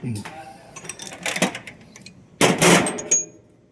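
Bolts on Lycoming aircraft engine torque plates snugged with a 3/4 socket: close, sharp metallic clicks and clanks in irregular bursts, with a brief voice near the start.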